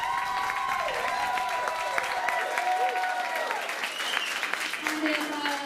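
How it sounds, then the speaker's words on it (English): Audience applause as a poll vote for a candidate at a live stage show, steady and moderately loud crowd clapping, with voices and some tonal sounds rising above the clapping. "Let's give a round of applause."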